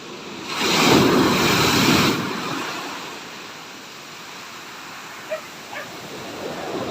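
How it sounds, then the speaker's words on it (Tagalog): Heavy ocean surf crashes in a loud roaring surge, then recedes into steady wind-blown wash, with a couple of faint barks in the distance. "Ayan o, lalaki ng alon."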